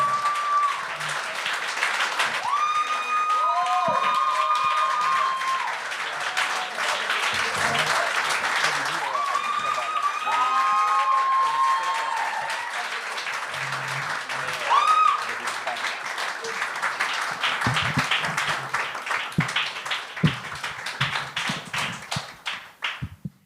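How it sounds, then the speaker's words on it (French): A comedy club crowd applauds as a comedian takes the stage at a French-language gong show, sustained clapping and cheering running under a host's amplified shouts and whistles, then thinning out near the end. "On applaudit jusqu'à temps qu'il commence, s'il vous plaît."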